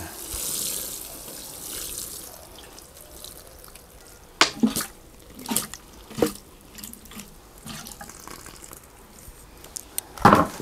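Nitrogen fertilizer solution poured over soil makes a soft, steady splashing trickle. A few louder splashes and gurgles come later, close by, with no voices.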